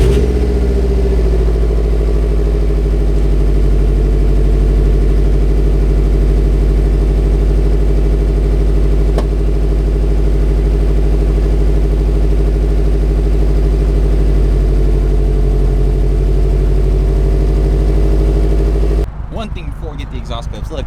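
A Subaru STi fitted with a Genome aftermarket exhaust idles steadily, a loud, deep and constant burble that holds for most of the stretch before cutting off near the end.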